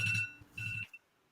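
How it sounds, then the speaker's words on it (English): Phone alarm going off indoors, two short bursts of a bright electronic beeping tone separated by a brief pause, fairly faint, with no talk. "that's my alarm to remember to go pick up a child"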